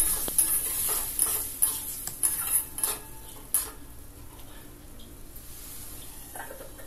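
Tomato pieces with a little salt stirred in a pan for a pabda fish curry, quiet sizzling with repeated light spatula clicks and scrapes early on, fading to a softer simmer, no speech.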